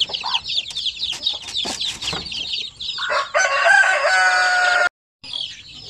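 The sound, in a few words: native Zampen chickens clucking and rooster crowing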